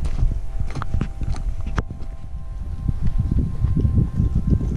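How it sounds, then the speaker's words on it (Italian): Horses walking on a hillside trail near the Colle del Castellaccio in the Italian Apennines, irregular clip-clopping hoofbeats mixed with outdoor rustle and wind, fairly close, with no talking. "Questi sono cavalli."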